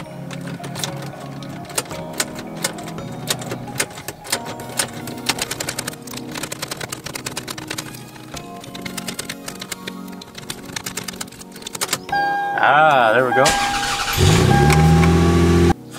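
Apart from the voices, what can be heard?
car ignition key turning, engine starting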